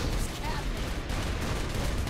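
Rapid gunfire in Saints Row 4, a constant barrage of overlapping shots and blasts filling the whole moment, loud and close in a chaotic game battle.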